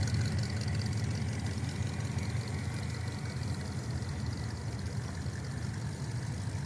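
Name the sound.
Chevy car engine at car show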